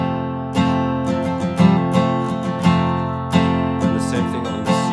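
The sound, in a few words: guitar down strums with hammer-on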